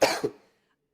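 One sharp cough followed by a smaller second burst, close and loud, then silence.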